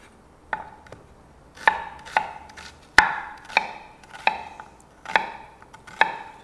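A knife slices through onion on a cutting board, about nine crisp, close strikes at a steady rhythm. The cuts come roughly every half second to second, with no talking.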